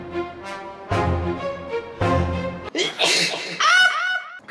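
A loud nearby sneeze bursts out, followed by drawn-out vocal sounds and trailing laughter-like noises.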